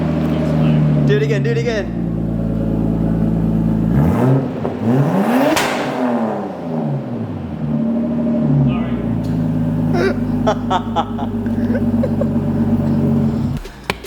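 A Nissan R34 GTT engine runs after a cold start, idling with a deep rumble and then revving sharply up and back down, loud and close, while someone speaks over it.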